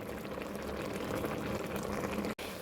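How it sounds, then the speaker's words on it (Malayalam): A pot of liver boils vigorously with a steady, dense bubbling and gurgling that continues without pause, close and fairly loud. "ദേ ലിവർ നല്ല തിളയൊക്കെ വന്നിട്ടുണ്ട്"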